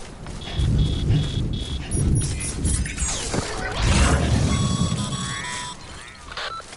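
Timefall rain pours steadily in a video game, a broad hiss of rainfall with low rumbling swells, punctuated by synthetic beeps and tonal game cues, continuous and fairly loud throughout.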